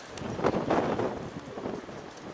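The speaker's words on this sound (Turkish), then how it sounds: "Of oh, rüzgara bak." Steady gusting wind from a stormy, rainy day roars and buffets the microphone, a rough, breathy rush that swells and eases without any voices.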